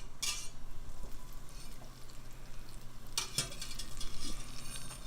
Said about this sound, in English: You put the half cup of butter in the pan. We're going to let that melt